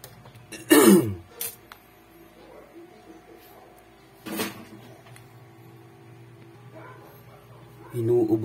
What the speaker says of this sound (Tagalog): Inuubo tayo sa usok